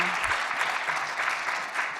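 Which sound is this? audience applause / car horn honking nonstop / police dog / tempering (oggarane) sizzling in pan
audience applause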